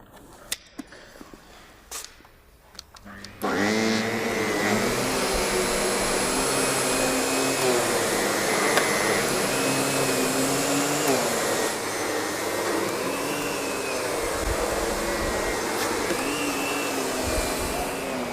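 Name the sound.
SEB 236 upright vacuum cleaner with power nozzle running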